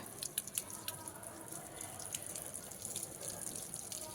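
Water dripping and trickling onto plants on a rooftop, a steady faint spatter with small splashy drops throughout, no talk.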